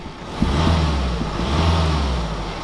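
A large van diesel engine revs hard twice up close, a loud, rough rumble rising and falling between throttle blips.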